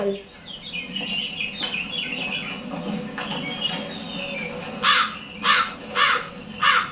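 Crows caw four times in a regular rhythm near the end, loud and close, after a stretch of softer mixed bird calls and outdoor background.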